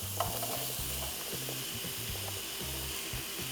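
Vegetables, including potato, are stir-fried in a pot as the base for a waterless doenjang stew, with a steady sizzle and a repeated scraping, stirring rhythm close by and no speech.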